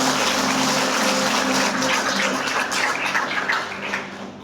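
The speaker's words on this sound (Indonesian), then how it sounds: "Beri tepuk tangan buat Tuhan Yesus." Crowd at a worship service clapping for Jesus, a dense, roaring wash of many hands held loud and steady, then thinning and fading toward the end.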